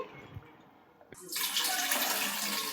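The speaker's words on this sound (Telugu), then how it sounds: "బాగా కావాల్సినంత పులుసుకి పోసుకుందామండి వాటర్ కూడా" Tamarind water being poured into a pot of sambar, a quiet pause with a small clink, then a sudden steady rush of liquid splashing in and continuing close and loud.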